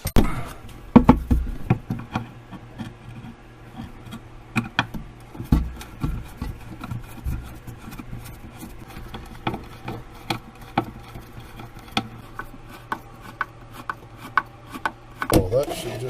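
A screwdriver scrapes and grinds in irregular bursts while slot screws are backed out of a fitting on a boat lifeline, close up, with occasional knocks and a brief voice.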